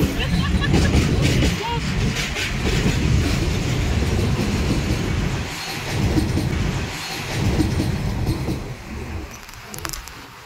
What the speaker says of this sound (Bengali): মালগাড়ি।